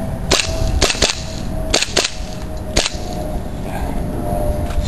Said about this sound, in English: Take a couple of shots.